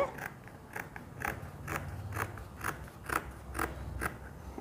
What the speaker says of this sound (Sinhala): දැන් මගේ මේක ඉදිරි පළුව ඉදිරි කරෙන් කපනවා.